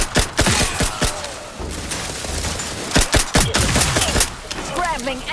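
Rapid gunfire in The Outer Worlds 2, loud close bursts of shots in quick volleys with a pause in the middle, and a voice speaks briefly between them.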